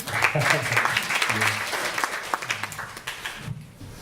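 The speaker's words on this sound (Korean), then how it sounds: "박수 한번 주시겠어요?" Audience applause at a Korean student debate forum, a steady burst of clapping lasting about four seconds, with a voice speaking over it.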